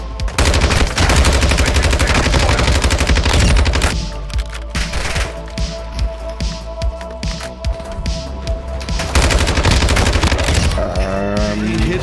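Call of Duty Warzone 2.0 gunfire rattles out in dense, rapid bursts, with a quieter stretch of scattered shots in the middle before heavy firing resumes, laid over a steady electronic hum, with players talking intermittently.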